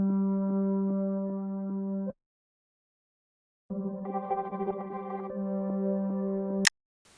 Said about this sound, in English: it's just this kind of like shuttery tremolo type texture